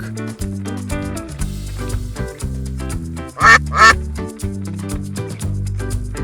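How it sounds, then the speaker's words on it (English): A cartoon duck gives two quick, loud quacks in succession, standing out over cheerful background music in a children's animal-learning setting. "Duck."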